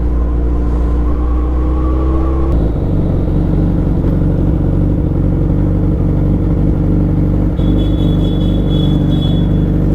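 A Suzuki Hayabusa motorcycle on a ride gives a loud, steady engine rumble close up, continuous for the whole stretch with a brief shift in tone partway through.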